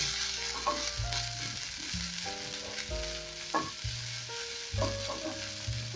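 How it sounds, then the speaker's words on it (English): Ginger toasting in a hot pan for fish in coconut cream crackles with a constant, close sizzle and occasional stirring scrapes, while soft background music plays underneath. "I'm going to toast this for a couple of seconds, and once the ginger is fragrant"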